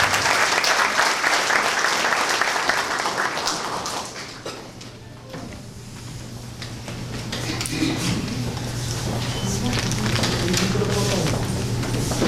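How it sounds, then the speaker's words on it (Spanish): Applause welcomes a lawyer speaker at an academic legal conference, loud clapping that fades after a few seconds, followed by someone speaking. "Recibamos un fuerte aplauso al doctor."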